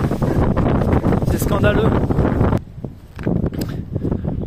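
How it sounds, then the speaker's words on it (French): Strong wind roars and buffets the microphone outdoors near a parked van, loud and continuous, then eases abruptly while a person speaks over it. "Le vent te pousse vraiment, tu perds l'équilibre."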